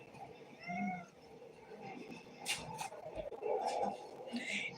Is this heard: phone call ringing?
no